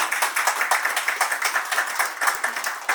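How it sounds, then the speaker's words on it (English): A crowd claps steadily, a brisk, even patter of applause that continues throughout. "And great applause for Dr. Panwar."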